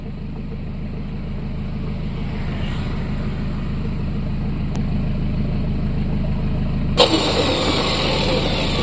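An electric Hi-Winch E12500 winch motor hums and whines steadily while reeling in rope on a vehicle, a loud continuous drone that grows slightly stronger before a sharp clunk and brighter noise near the end.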